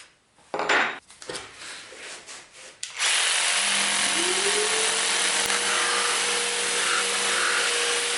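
After some clattering handling noises, a jigsaw starts up and runs continuously with a loud, buzzing whine, cutting steadily through 8mm MDF plate.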